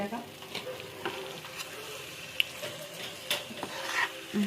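A spoon stirs powdered sugar through a drying mixture in a pan for a small winter home remedy recipe, giving a soft, faint scraping and light sizzle with occasional small clinks.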